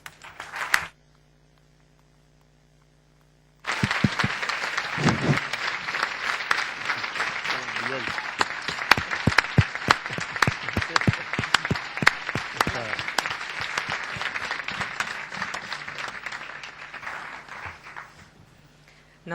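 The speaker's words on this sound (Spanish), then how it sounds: "los aplausos han sido significativos, acompañado con bravos" Sustained applause from a conference audience, loud and dense with scattered shouts of bravo, rising suddenly after near silence and continuing steadily to the end.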